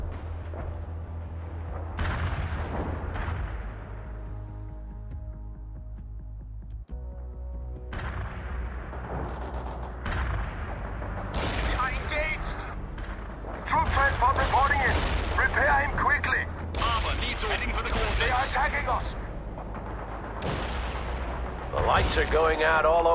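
An artillery barrage in the World in Conflict video game, with repeated heavy booms and blasts, some near and some farther off, crackling over a low rumble while battlefield voices talk.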